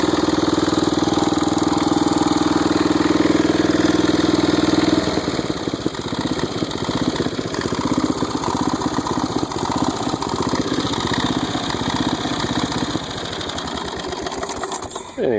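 A Snapper rear-engine riding lawn mower bought cheap idles steadily nearby, its small engine holding a constant buzzing drone before the pitch drops and settles into a rougher, uneven chug.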